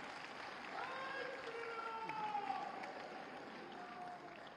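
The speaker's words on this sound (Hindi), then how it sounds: "तालियां कमजोर है, ये मैं आपको बताना चाहूंगी।" Audience at a speech breaking into applause, a dense steady wash of clapping from a crowd that holds throughout, with faint voices mixed underneath.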